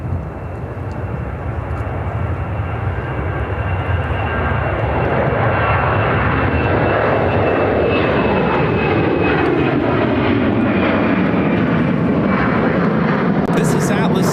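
Atlas Air 8710 comes in to land at Chicago O'Hare after a flight from Anchorage, a loud continuous engine roar with a sweeping pitch shift as it passes close by.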